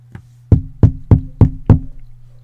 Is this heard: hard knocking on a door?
yes